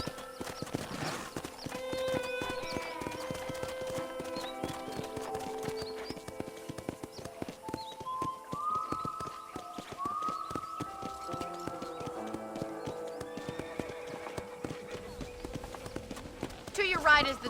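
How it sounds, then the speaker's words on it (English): Horse hooves clip-clop steadily at a riding pace in the Red Dead Redemption video game, with occasional whinnies, under a music score and a voice talking throughout. "let's see if you can still ride a horse."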